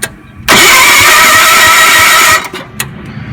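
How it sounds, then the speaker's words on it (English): A starter slowly cranks the engine of a 1978 John Deere 312 lawn tractor. The whirring drone is loud and sustained for about two seconds, then stops and leaves a brief click and quiet background. "I'd turned the engine over and it wasn't spinning very fast, the starter"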